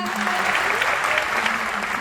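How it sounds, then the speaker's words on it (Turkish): Steady, dense clapping from a crowd, loud and close, continuing without pause throughout. "Alkış."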